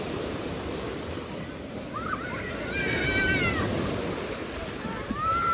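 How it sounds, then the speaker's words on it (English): Ocean waves wash onto a beach as a steady, broad rushing surf. High squeaky calls that sound like a cat or a bird cut in briefly over it. "We got waves."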